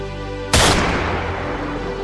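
Single sharp, loud blast from a weapon in an independent science fiction film, cutting in over a steady electronic hum and trailing off in a long noisy decay.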